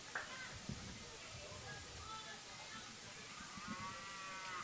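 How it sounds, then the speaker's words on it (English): A cow-moo sound effect played over the speakers at a high school baseball game, faint and distant in the open-air crowd ambience. "They had some kind of cow sound there."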